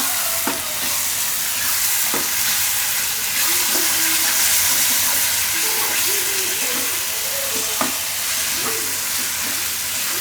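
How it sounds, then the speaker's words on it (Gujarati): Boiled fenugreek is stirred into a sizzling raw mango curry masala, a steady loud frying hiss broken by scraping spoon strokes and a few sharp knocks against the pan, with no voices. "હવે આમાં આપણે નાખી દઉં આ મેથી બાફેલી. આને મિક્સ કરી લઉં."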